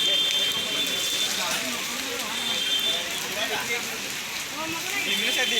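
Steady rain falls along a roadside street of shops, a continuous, even hiss of drops lasting the whole stretch, with a voice speaking over it.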